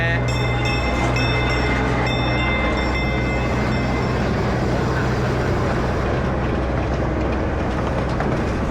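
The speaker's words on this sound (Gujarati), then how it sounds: "હમણાં મારી પાછળ આવી રહી છે કિડ્સ માટેની ટ્રેન" A kids' amusement train at Centreville on Centre Island, Toronto, passes close by with a loud, steady rumble and a droning mechanical hum that holds throughout, with no pauses.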